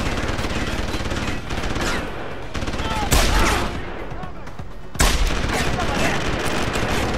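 Gunfire in Deus Ex: Human Revolution comes as loud, dense bursts of shots with heavier impacts, over a busy game soundscape.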